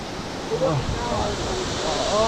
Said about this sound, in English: What a waterfall!